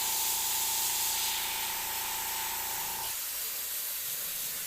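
An airbrush sprays paint onto a skull for heavy opaque coverage, a steady close broadband hiss with a tonal whine that cuts off sharply after about three seconds, leaving a softer hiss.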